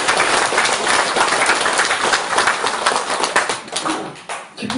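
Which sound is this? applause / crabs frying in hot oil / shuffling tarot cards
applause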